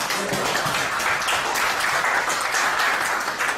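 Audience applause at a space construction technology lecture, a steady dense patter of many hands clapping at moderate level for nearly four seconds without pause, no voices over it.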